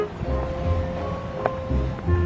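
Calm coastal sea washes softly against the shore in low, rolling surges under light wind noise, a gentle continuous wash with no voices.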